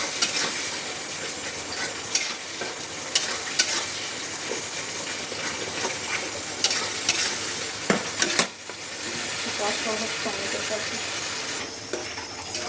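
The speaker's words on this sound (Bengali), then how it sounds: "দিয়ে এবার মশলাটাকে ভালোভাবে কষিয়ে নেব। এর মধ্যে একটু টমেটো কুচি দেবো।" Spice masala cooks in a pan with tomato added over a raised gas flame. It gives a continuous sizzle and hiss, broken by repeated sharp scrapes and taps from stirring, with a brief quieter dip near the end.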